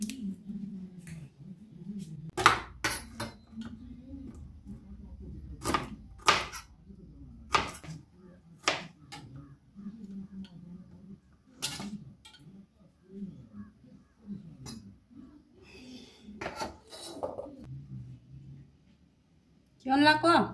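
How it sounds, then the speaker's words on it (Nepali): Onion being cut with a knife for a chicken meat fry in a home kitchen, a string of sharp, close chopping clicks at irregular intervals, with soft talk in between. "अब म प्याज काट्छु मासुमा"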